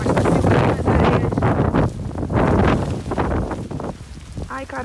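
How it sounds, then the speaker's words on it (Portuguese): Strong hurricane wind roars outside a house, buffeting the microphone in heavy, uneven gusts that swell and fade, loud and close throughout. "O vento aqui fora tá muito forte."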